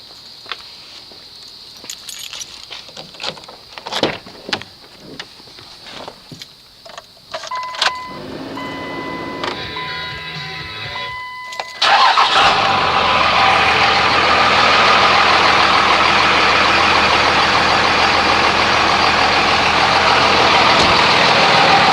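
A vehicle engine cranks and fires up on a test start after an Amsoil EAO 80 full-flow oil filter and BP 100 bypass filter install, preceded by clicks and rattles, then settling into a loud, steady, close idle.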